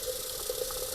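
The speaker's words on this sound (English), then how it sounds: "I'm just gonna put water." Water poured into a plant planter, a steady soft liquid stream running the full second, close and alone.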